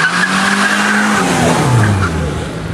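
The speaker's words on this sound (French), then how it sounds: "Quelle belle Renault 5 GT Turbo avec le numéro 35." Renault 5 GT Turbo number 35 racing up a historic hill climb, loud close engine note with a falling pitch and tire skidding or squeal as it passes, continuous with no talk.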